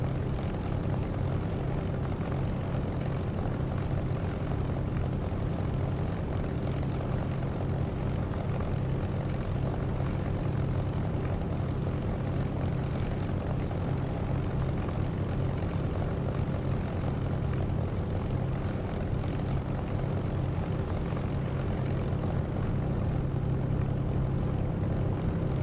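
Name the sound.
aircraft engine taxiing in DCS flight simulator video game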